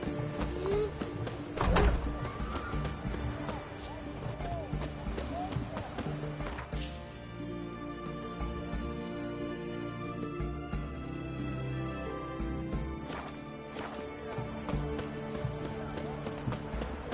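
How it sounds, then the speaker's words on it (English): Horse hooves clip-clop at a gallop in the video game Witcher 3, a quick rhythmic pattern mixed among game music and effects, moderately quiet. "Horse."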